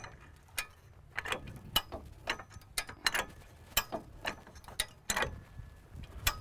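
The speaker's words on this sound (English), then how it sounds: "then you start to crank down. You see immediately it starts to lift the vehicle up" A ratcheting crank clicks in slow, irregular single ticks while lifting an off-road vehicle, each metallic click sharp and close against a quiet background.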